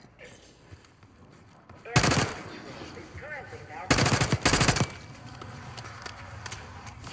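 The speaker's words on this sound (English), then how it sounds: "You hearing gunfire?" Video game gunfire in a Black Ops 6 cutscene: two separate sustained bursts of rapid automatic fire, the second split into a pair of volleys, echoing from lower floors amid tense talk and quieter ambience.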